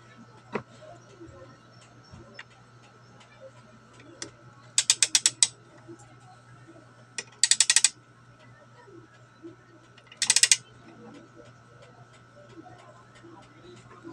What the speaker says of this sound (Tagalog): mapapansin nyo yung tatlong click lang, automatic mag-click ito.